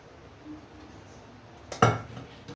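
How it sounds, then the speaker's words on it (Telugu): A metal pressure cooker lid comes off with one sharp clank and rattle near the end, close and loud against a quiet kitchen background, with no voices. "ఇప్పుడు మూత తీసి చూసుకుందాం."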